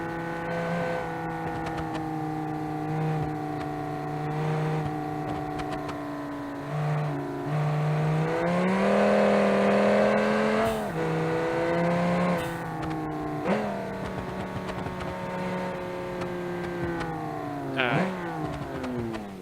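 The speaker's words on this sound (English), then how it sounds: "It's got a blow-off valve noise." Truck engine with a blow-off valve in BeamNG.drive, a steady loud drone that rises and falls as it revs and shifts, with brief hissing bursts from the valve between gear changes.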